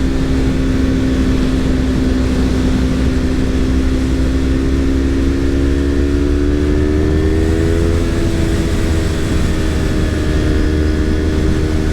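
A motorcycle engine drones steadily while riding, a loud constant hum with the pitch slowly climbing as the bike gains speed, with wind noise underneath throughout.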